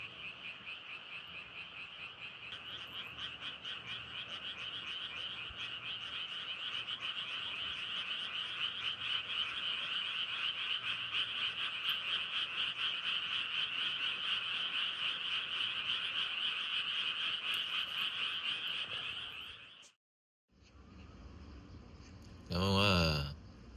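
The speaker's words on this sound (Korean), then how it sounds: "개구리 소리가" A dense chorus of frogs croaks continuously for about twenty seconds, then cuts off, followed by a brief burst of voices and handling noise.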